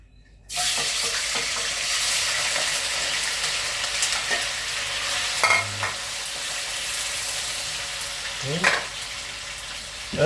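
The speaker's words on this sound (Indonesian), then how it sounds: "kita goreng ini setengah matang ya" Steady, loud sizzling of crackers, cattle-skin crackers for krecek, frying half-done in hot oil, continuous throughout with occasional clinks of a utensil stirring.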